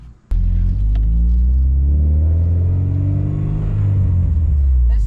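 Honda Prelude setting off on a test drive, an engine starting abruptly and then accelerating with rising, sweeping engine tones over a heavy close rumble.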